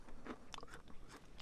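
Close, dry crunching as a cracker from a Latvian military ration is bitten and chewed, a few sharp brittle cracks in quick succession.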